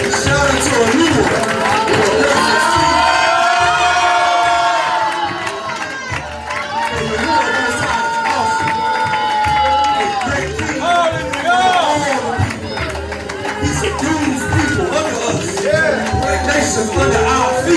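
A church congregation claps and shouts in a loud, lively crowd roar that continues throughout, mixed with cheering and chatter.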